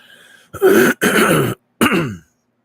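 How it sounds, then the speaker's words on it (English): Two or three harsh coughs, close and loud, separated by brief silences. "I don't mean to cough like that into the microphone"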